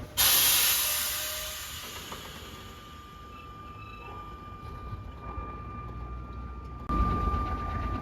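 Steady air hiss leaks from a truck trailer's air system, loud at first, easing to a constant rushing tone, then swelling again near the end.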